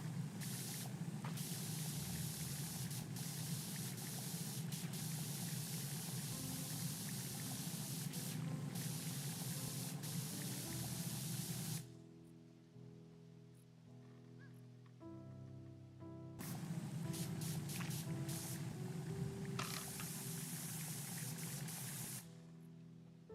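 A pressure washer spraying in Powerwash Simulator 2, a loud steady hiss that stops for several seconds and then resumes, with faint electronic tones in the pause.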